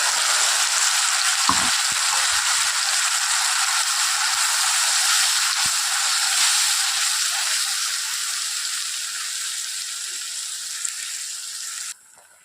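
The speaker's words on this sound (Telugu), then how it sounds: "ఇప్పుడు నేను ఈ మసాలాలు అవి వేసాను కదండి ఇవి కొంచెం ఫ్రై చేసుకోవాలి" Masala spices sizzle steadily in hot oil for a homemade paneer masala, a dense, close frying hiss with a couple of soft stirring knocks, continuing unbroken before cutting off abruptly at the end.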